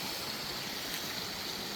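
Steady, soft rush of water from a creek waterfall on a hiking trail, a continuous broadband hiss with no breaks and no voices, heard faintly from a little distance.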